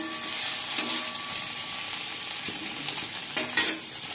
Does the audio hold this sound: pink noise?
no